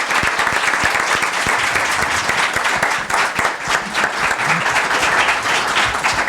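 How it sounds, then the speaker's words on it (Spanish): Audience applause at the close of a live design panel debate, dense sustained clapping from a large crowd, loud and steady throughout without pause. "Yo les pediría un aplauso como agradecimiento."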